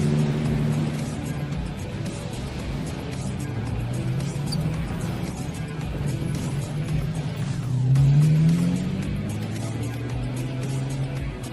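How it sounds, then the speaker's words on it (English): A crowd of cars drives and revs on a street, engines droning steadily with a louder rev swelling near the end, while a voice talks over it at times. "There's a ton of cars behind me."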